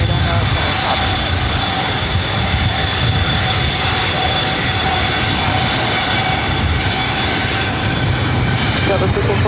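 A jet airliner rolls for takeoff on runway 24 right at LAX, a loud, steady engine roar with a broad rushing hiss that holds unbroken and close throughout.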